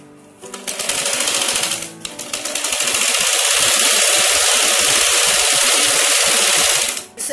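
A sewing machine stitching the folded hem of a pant runs in a steady, continuous mechanical whir, close and loud, with a brief pause near the two-second mark before running on until the end.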